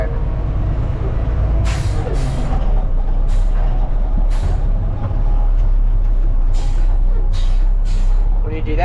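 A front-load garbage truck compacts its load while driving, a loud steady engine and hydraulic drone with repeated hissing air-brake bursts and clanks, with a voice talking over it.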